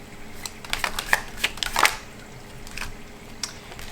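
Tarot cards being handled and laid out for a reading, heard as soft, close shuffling and flicking sounds in short bursts, then quieter.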